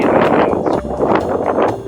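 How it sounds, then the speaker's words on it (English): Gusty wind buffets the microphone with a steady low rumble and rustling on open plains in Theodore Roosevelt National Park, no voices heard. "It's kind of windy here."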